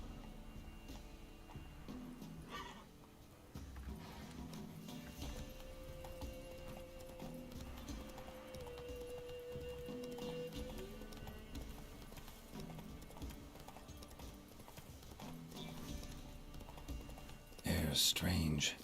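Roach the horse from The Witcher 3 trots in a steady clip-clop of hooves throughout, a game soundscape beneath a continuous low ambient bed with a brief louder burst near the end.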